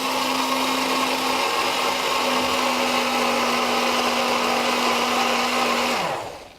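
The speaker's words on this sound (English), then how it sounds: "Shae, turn our blender on" Kitchen blender pureeing a thick soup, a loud, steady motor whir with a constant droning pitch that runs unbroken for several seconds before the motor is switched off and spins down.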